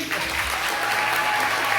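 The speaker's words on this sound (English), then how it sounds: "audience, give them a nice big round of applause" An audience at a senior banquet stage hypnosis show breaks into a steady, dense round of applause, close and sustained without pause for the full stretch.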